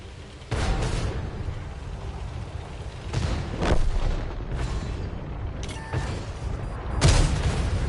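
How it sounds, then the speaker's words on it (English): Artillery fire in World of Tanks, several heavy booming impacts and shots landing at irregular intervals over a steady rumbling battle background, loud and close with mechanical creaks between. "We lost a friendly vehicle. Bloody artillery again."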